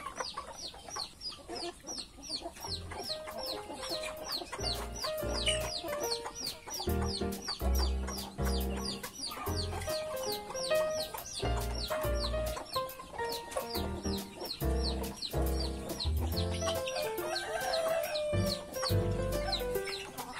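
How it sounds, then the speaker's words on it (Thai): A flock of chickens, including aging hens, cluck continuously on a Thai farm, with many overlapping close clucks and occasional crowing filling the scene. "ไก่ยังเยอะอยู่นะครับ"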